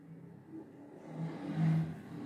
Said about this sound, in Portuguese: Olha, barulho de moto